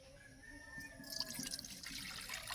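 Water poured into a bowl of mashed potato for a thin batter with flour and salt, a soft, faint trickle and splash that swells after a quiet start.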